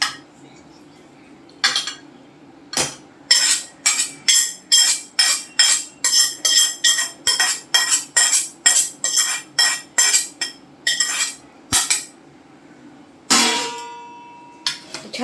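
A metal spoon scraping and clinking rhythmically against a bowl while cooled tempering is poured in and stirred through ambe dal, roughly two dozen sharp, close taps in a steady beat, followed by a longer scrape.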